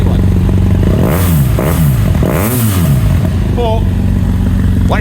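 BMW F800 GS Adventure motorcycle with a baffled Leovince exhaust revving up close, a loud steady idle rising and falling through two throttle blips, with faint clatter near the end.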